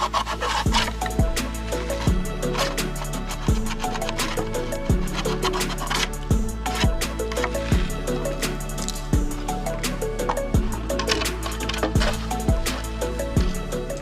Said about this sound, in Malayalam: നമുക്ക് ഇതേപോലെ ചീന്തി ആ ഭാഗം നമുക്ക് എടുത്തു മാറ്റണം